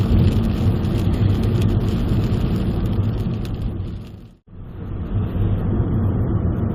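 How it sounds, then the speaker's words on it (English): Steady, dense rain drumming on a car windshield, loud and continuous, with a brief dip partway through before the downpour resumes. "all you're going to be hearing now is rain hitting that blasted windshield."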